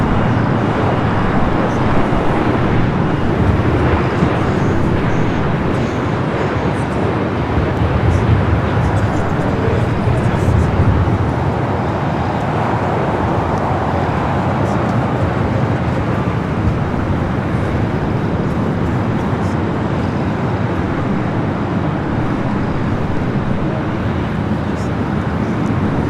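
A United Boeing 787-9 Dreamliner arriving at LAX from London Heathrow, a steady broad jet roar and rumble holding for the whole stretch, with airport background noise around it.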